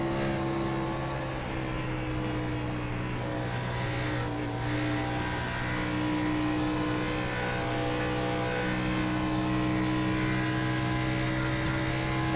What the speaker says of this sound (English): just listen to his car. It seems like he's clutching it in going down to the corners.